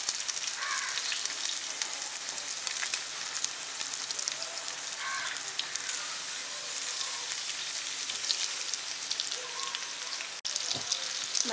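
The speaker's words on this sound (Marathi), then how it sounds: "मंद आचेवर 3 ते 4 मिनिटं आपण छान तळून घेतलेलं आहे।" Pomfret pieces coated in rice flour fry steadily in a pan over low heat, a dense continuous sizzle with crackling pops throughout, close and loud.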